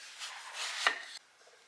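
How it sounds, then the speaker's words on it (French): Knife slices eggplants lengthwise on a board, a soft close rasp of the blade drawing through the flesh that ends in one quick sharp tap, followed by quiet. "Je vais venir couper les têtes de 2 aubergines. Et ensuite, je vais faire des tranches dans la longueur."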